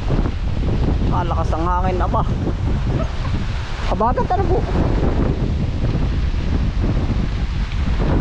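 Strong wind buffets the microphone with a loud, constant low roar during a sweet potato harvest in a field, while people talk briefly over it.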